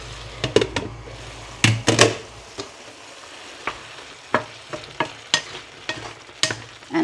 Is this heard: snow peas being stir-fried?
yes